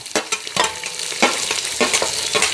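Green chillies, chopped onion and curry leaves sauté in a pan for lemon rice, with a steady sizzle broken by several sharp stirring scrapes, close and fairly loud, no voices.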